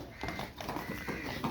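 A mare clip-clopping on hard ground with whinnies and snorts mixed in, close and moderately loud in a farm setting.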